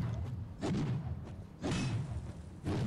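Heavy hammer weapon in Bloodborne swung and slammed down three times, each strike a dull thudding impact with a whooshing tail, spaced roughly a second apart over a low rumbling game backdrop.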